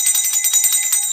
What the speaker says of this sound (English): That's your freedom bell